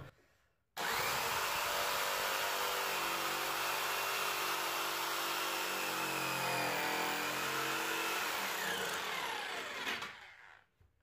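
A jigsaw cuts laminate flooring resting on a pallet, whining loud and steady for about ten seconds after starting abruptly, then trailing off as the cut ends.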